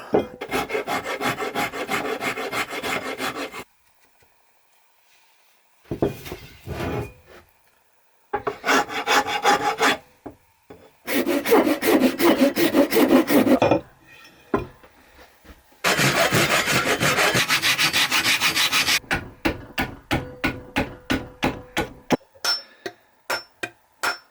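Repeated rasping strokes of a file on a hand-forged steel axe head, long bursts separated by short pauses, ending in a quicker series of short scrapes. Loud and close.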